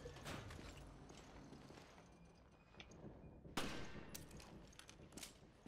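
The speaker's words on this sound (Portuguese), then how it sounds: "Tá, dei um tiro sem querer." Sharp gunshots crack in Resident Evil: Revelations, an accidental discharge after picking up ammo, with a loud burst midway and scattered mechanical clicks and game ambience around it.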